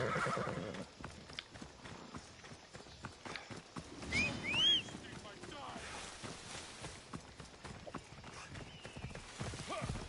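In Assassin's Creed Odyssey, hooves clatter rapidly in a steady gallop, and a shrill horse whinny rises briefly midway, with game sound effects and a voice around it.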